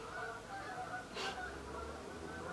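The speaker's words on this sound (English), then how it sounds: "There are geese flying over the house." Canada geese honk as they fly over a house, one short faint honk standing out over a quiet indoor hum.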